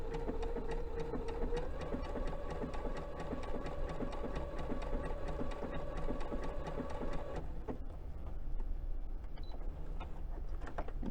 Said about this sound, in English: It's going to go stitching straight, and as it moves over, it's moving over onto that pin.